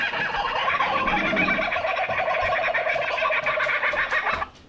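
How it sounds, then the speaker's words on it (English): Kookaburra calling loudly and close at hand in Redmond, Oregon, a long rolling cackle of rapid repeated hoots that swells and then cuts off, with no talk over it. "Kookaburra. Kookaburra, yeah. Kookaburra."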